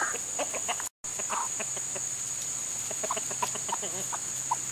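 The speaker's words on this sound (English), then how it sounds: "This is Blanche, the broody girl." A broody hen clucks in a farm flock, with soft repeated clucks and short calls at close range over a steady background hum.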